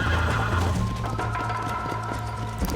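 A horse in the Red Dead Redemption video game whinnies over steady clip-clop of hooves, with constant game ambience and a low droning hum underneath.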